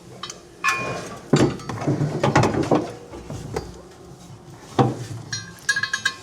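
A TowSmart metal trailer hitch receiver is lifted into place under a 2024 Hyundai, producing a run of close metallic clanks, clinks and rattles, with bursts of knocking and a few sharp hits separated by brief lulls.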